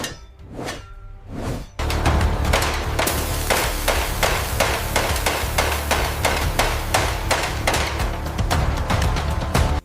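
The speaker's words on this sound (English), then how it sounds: "They smash the hot iron with a pneumatic gun." A pneumatic gun hammers hot iron rivets into a steel bridge. After a few rising whooshes, a loud, rapid, steady rattle of blows goes on without a break.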